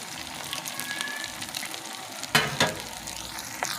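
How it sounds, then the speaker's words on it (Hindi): Chicken bread rolls fry in oil with a steady close crackle and sizzle, interrupted by a couple of louder bursts and spatters near the end, with no voices. "प्यार के साथ इसे फ्राई करेंगे कि हमारे रोल टूट ना जाएं"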